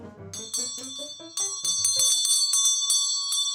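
An antique bell rung by hand, several bright metallic strikes, each tone ringing on with long sustained overtones, close and fairly loud over a low rumble of room noise.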